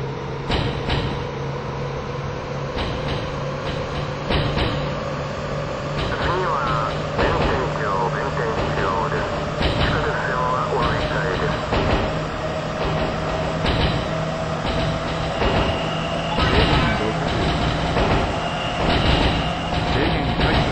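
A 221 series electric train departs on the Yamatoji Rapid service, Osaka Loop Line, in the video game Densha de GO! Final: a steady, loud running rumble with a slowly rising motor whine throughout, and a voice heard at times over it.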